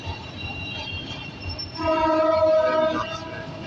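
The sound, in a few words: train passing Tejgaon railway crossing, horn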